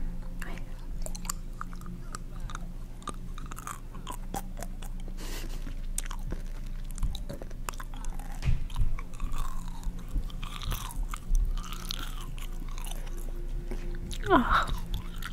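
Close, moist chewing of a piece of mint gum, with soft smacking and crunching mouth noises repeating steadily throughout, quiet and intimate, with a faint low hum behind.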